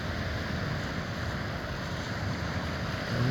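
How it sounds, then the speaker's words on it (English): Ocean waves washing onto a beach shoreline, a steady rushing wash of surf with some wind noise, continuous and fairly close, swelling slightly at the end with no one speaking. "And then the wave comes in"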